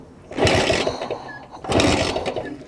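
A BSA Bantam motorcycle is kicked over in two bursts, each a short loud chuffing, sputtering flurry of engine turns up close, with a quieter gap between attempts.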